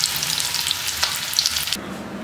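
Fish fingers fry in hot oil in an air fryer with a close, steady crackling sizzle that suddenly dulls near the end.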